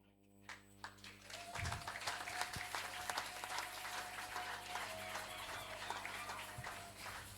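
Sustained audience applause in a hall during an investiture and peace-ambassador distinction ceremony, a dense steady wash of many hands clapping for the full length with a faint tone running underneath.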